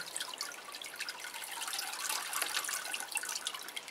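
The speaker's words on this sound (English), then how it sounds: "Don't forget there's 2 sides to a pot, so make sure it's watered all round." Water pouring onto a plant pot on a warm sand bed, a soft continuous trickle and patter, faint and even from start to finish.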